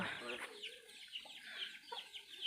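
Farm chicks and hens in a backyard vegetable garden, giving soft repeated cheeps and clucks close by, with faint voices in the background.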